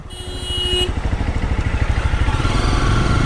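A Honda CRF250 dirt bike is ridden up a mountain road toward Phe Phe Falls in Meghalaya; its single-cylinder engine throbs in a fast, even pulse that swells louder after a brief whine at the start.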